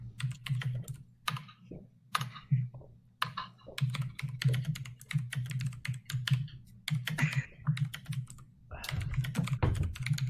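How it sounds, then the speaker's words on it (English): Rapid clicky typing on a Razer BlackWidow Chroma mechanical keyboard with green switches, sharp keystrokes in uneven bursts close to the microphone over a low steady hum, with occasional faint talk. "Sorry about the loud keyboard."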